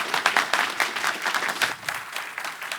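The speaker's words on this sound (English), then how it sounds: "some applause to JANIS and support him for his future talk" Audience applause at a Ruby programming meetup talk, steady close clapping from a small crowd lasting throughout and easing slightly near the end.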